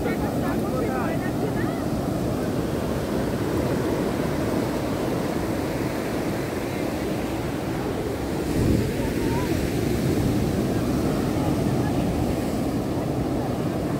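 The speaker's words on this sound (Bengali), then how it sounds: "ঢেউয়ের আওয়াজটা এত সুন্দর লাগছে।" Sea waves roll onto Puri beach, a continuous loud surf roar with wind buffeting the microphone and a swell near the middle.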